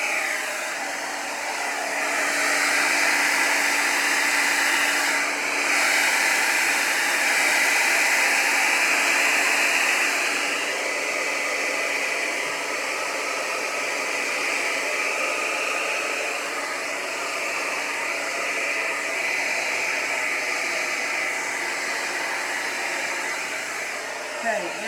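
An air blower roars steadily and loudly at close range, pushing pigment colour across wet resin being covered with white, with a continuous hiss throughout and no talking.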